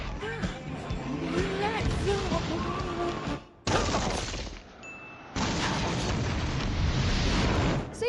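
Explosion scene from The Simpsons in which 37 restaurants are blown apart: loud, sustained rumbling blasts fill the clip, with a brief break and a second roaring burst, mixed with cartoon sound effects and a voice.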